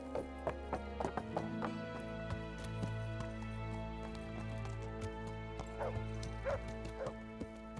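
A horse gallops in the video game Kingdom Come: Deliverance, with rhythmic hoofbeat clops over steady in-game background music, the hooves growing more pronounced toward the end.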